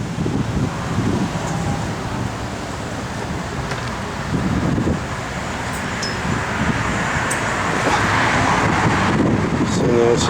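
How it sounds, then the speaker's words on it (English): Wind gusts outdoors around a 1966 Pontiac GTO, a steady, rough rumble buffeting the microphone for the whole stretch and swelling slightly near the end, with some indistinct voice underneath. "it's just a little wind's whipping"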